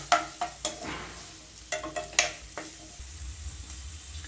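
Chopped onion sautéing in oil with garlic, stirred in a pan: soft sizzle broken by a few sharp scraping clicks of the spoon, closer and busier in the first half, then a quieter low rumble.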